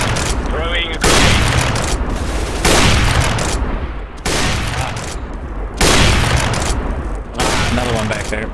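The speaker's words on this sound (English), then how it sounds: "Throwing a grenade." Grenade blasts and gunfire go off on the Cache map in a CS:GO match, loud repeated booming bursts at roughly regular intervals, close and heavy, with a voice occasionally audible.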